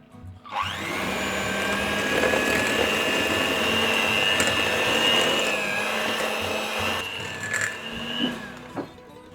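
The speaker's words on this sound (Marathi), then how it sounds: "ह्याच्यात घालूया 1 कपभर पिठी साखर, पावडर शुगर आणि हे ब्लेंड करूया." An electric blender mixes mascarpone with powdered sugar in a continuous loud whirring drone that runs for about nine seconds and then winds down with a few knocks, with no talking.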